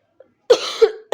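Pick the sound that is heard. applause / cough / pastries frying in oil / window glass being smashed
cough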